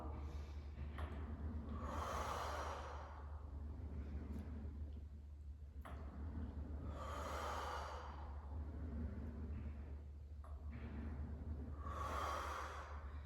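Three slow, deep breathing cycles during a reformer Pilates exercise, each a long airy exhale swelling and fading at a steady, unhurried rhythm, close to the microphone over a constant low hum, with no talking.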